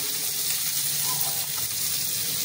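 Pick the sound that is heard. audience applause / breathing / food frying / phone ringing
food frying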